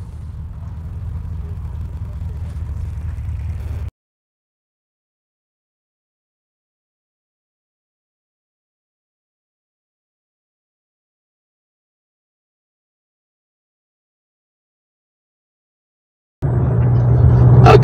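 An Isuzu D-Max 1.9 diesel LS double cab drives on the road with a steady low engine drone and road rumble for about four seconds, then silence, and the drone returns louder near the end.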